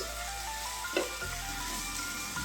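Masala for Delhi-style dal fry sizzling in a pan, a soft even fry with one quick stir scrape near the middle, nobody speaking.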